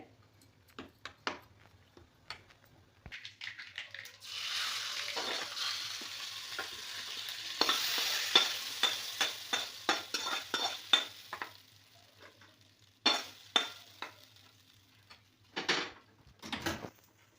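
Mustard seeds and cumin hit hot oil, starting a loud close sizzle that crackles with sharp popping spurts, then fades to scattered pops and a few clatters.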